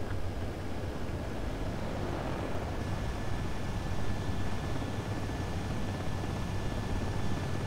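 Steady jet engine drone and broadband rumble of an aircraft coming in to land in the video game Ace Combat 7, continuous and fairly loud with no voices.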